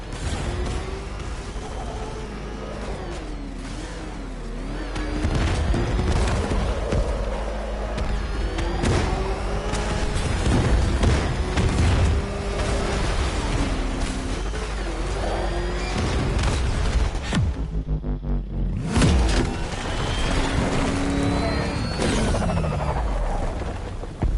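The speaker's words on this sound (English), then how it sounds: "Warning, explosion imminent." Explosion in the Batman Arkham Knight video game, heavy rumbling booms and crashing debris over a long noisy stretch, with a sudden drop-out near the end before the din returns.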